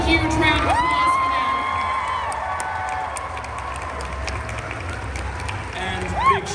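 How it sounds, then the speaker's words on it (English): A convention panel audience cheering and clapping, a broad roar of applause with high-pitched whoops and shouts from many people, sustained and loud from start to finish with voices rising over it. "Please, one huge round of applause for"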